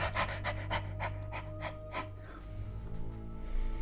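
A voice imitates a dog huffing and panting, with a run of quick rhythmic breathy pants that slow and trail into softer breaths, close and fairly quiet over a low steady hum.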